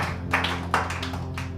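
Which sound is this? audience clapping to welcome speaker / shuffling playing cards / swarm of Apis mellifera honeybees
audience clapping to welcome speaker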